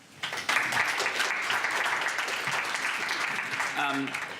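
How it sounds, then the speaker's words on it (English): A crowd breaks into sustained applause that starts abruptly, holds steady for several seconds, and a voice briefly breaks through near the end. "let's give him a round of applause"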